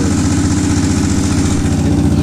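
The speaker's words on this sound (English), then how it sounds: "Let's rev it up for y'all." A Honda TRX400ex ATV engine runs close by with a steady, throbbing idle and a loud, even pulsing rhythm throughout, no talking over it.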